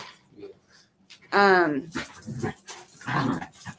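Dogs bark and yip playfully close by, one loud drawn-out bark followed by scattered yelps, with a person talking in between.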